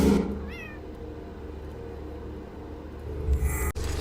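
A house cat meows once near the start, a short rising-and-falling call heard close by over a low steady background hum, followed by quiet rumbling and a brief clatter near the end.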